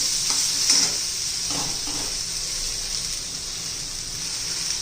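Diced potatoes sizzle steadily in hot oil in a pan while cooking for sabudana khichdi, a constant close hiss with a few soft stirring scrapes near the start.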